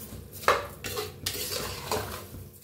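Spiced masala rice is stirred and toasted in oil in a pot, with a metal spoon scraping and clinking against the sides in several quick strokes over a faint background sizzle.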